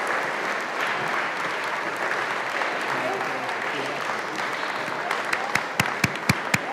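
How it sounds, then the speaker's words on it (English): Audience applause at an eighth grade honors and awards program at Tri-West Middle School, a steady, full crowd sound that thins toward the end to a few loud, separate claps nearby. "Round of applause, thank you."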